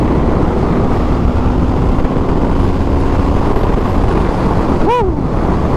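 A 2020 Indian FTR1200S motorcycle holds a steady, loud engine drone around 3,500 RPM at about 60 mph in sixth gear, heavy wind rush blending in throughout, with a brief passing tonal sweep near the end.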